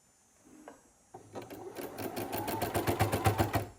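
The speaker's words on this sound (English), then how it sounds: "I just go ahead and sew right down, hoping to catch the top and the bottom piece of that sleeve in the first pass" Sewing machine stitching a black flannel sleeve onto a cut jersey, starting after a soft pause, then running in a steady rapid whir with rhythmic needle pulses that grow louder and fill the rest of the stretch, with no talking.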